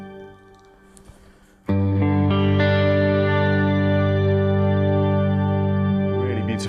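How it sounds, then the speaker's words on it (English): A guitar chord rings out through an Eventide H9 MAX pedal's shimmer effect, blooming into a loud, sustained, octave-rich wash that holds steady for several seconds after a quiet opening. "So let's do shimmer. This is a classic effect from Eventide."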